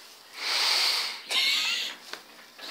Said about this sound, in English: Jericho, sniff the camera